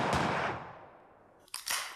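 A TT pistol fires close by: a sharp report whose echo decays slowly, followed by another pair of quick, loud shots.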